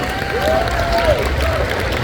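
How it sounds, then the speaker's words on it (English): Audience applause for a contestant at a pinup pageant during a tattoo expo, steady moderate clapping with a voice briefly carrying over it. "Round of applause for Miss Ivy."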